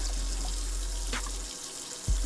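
Water running steadily from a kitchen faucet into a cup for Kool-Aid, a constant hiss and splash that stops partway through, followed by a small clunk.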